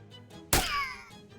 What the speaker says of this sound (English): You're just beating up on old Shelby.